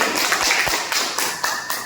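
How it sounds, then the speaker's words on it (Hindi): Clapping from an audience at an Indian business-plan seminar, a steady spread of tapping hand claps over about two seconds, loose and uneven, with no voices over it. "तो एक बार अपने लिए जोरदार तालियां बजाइए।"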